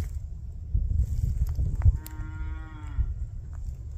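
Cattle on a hillside moo outdoors, one clear drawn-out low call rising to a tonal bellow midway, heard at moderate distance over steady wind rumble with no voices.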